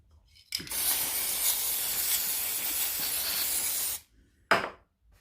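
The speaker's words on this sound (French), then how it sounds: "je ne fais pas d'économie sur la colle en spray" Spray adhesive glue hisses from an aerosol can in one long steady burst of about three and a half seconds, then a short second spray, with no talking.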